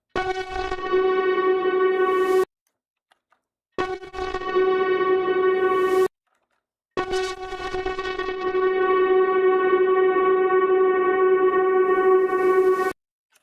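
Sustained, heavily processed tones ring out with a reverberant, metallic hum, broken by two abrupt silences, with odd artifacts lingering as each passage decays.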